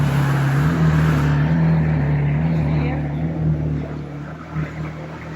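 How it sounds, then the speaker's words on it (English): A McLaren P1 supercar drives by on a street in the Emirates, its engine a loud, deep hum that swells at first and then gradually recedes into the distance. "Just a casual P1 riding around"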